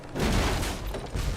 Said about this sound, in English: They got 5 cannons.